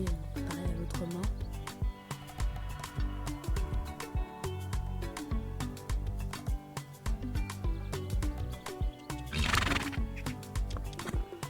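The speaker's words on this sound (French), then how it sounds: "je le fais bien trotter et après je vais le faire galoper, pareil à l'autre main" A horse works on a lunge line, trotting then galloping, with steady rhythmic hoofbeats thudding close by throughout and a brief whinny partway through.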